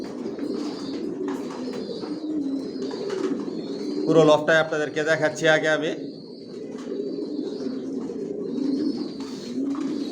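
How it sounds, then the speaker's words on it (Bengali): Racer pigeons of a Johnson line coo steadily in a pigeon loft, a low continuous murmur throughout, with someone talking briefly over it in the middle. "সব লংয়ের কবুতর পালি।"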